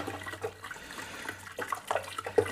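Home-brewed IPA beer siphoned into a keg, a soft, irregular trickle and gurgle of liquid running through tubing, fairly quiet with small splashy bursts toward the end and no voices.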